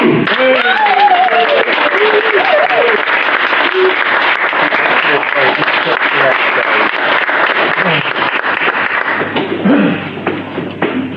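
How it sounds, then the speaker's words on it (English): An audience at a stand-up comedy show applauds loudly and continuously for about ten seconds, dense clapping filling the room, with a voice speaking over it near the start and the applause thinning at the end. "So you're going to give her a massive round of applause"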